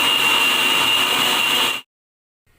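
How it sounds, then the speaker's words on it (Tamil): Kitchen mixer grinding coconut, shallots, fennel seeds and curry leaves: a close, steady high whine for nearly two seconds that cuts off abruptly into silence. "தேங்காய் சின்ன வெங்காயம் சோம்பு கருகப்பிலை இதையும் ரெண்டையும் எல்லாம் மிக்ஸ் பண்ணி அரைச்சி எடுத்துக்க போகிறோம்"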